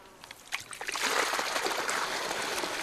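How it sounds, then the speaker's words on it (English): Water draining out of a terraced rice field on a Zhejiang hillside, a soft trickle that swells after a second into a steady gurgling, splashing flow close by. "he needs to let some water out of the system"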